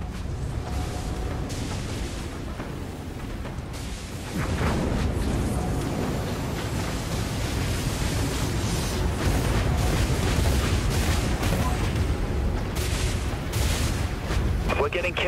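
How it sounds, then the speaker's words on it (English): Missile launches and explosions in the video game Dreadnought make a dense, rumbling barrage of booms and blasts that grows heavier partway through, with continuous roaring impacts and faint speech beneath. "Launching vulture missiles."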